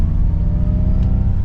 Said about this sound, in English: going into unbridled, we get some cool like engine sounds